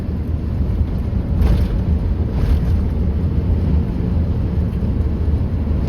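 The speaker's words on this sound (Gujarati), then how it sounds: "એટલો પવન ફેંકાય છે" Steady roaring cyclone wind in Bhal, Bhavnagar, buffets the microphone, a dense rumbling rush with a couple of brief louder gusts, continuous throughout.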